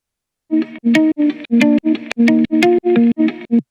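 A chopped musical sample plays in short, evenly spaced bursts, about a dozen clipped vocal-like stabs with distorted, effected tone, loud and rhythmic.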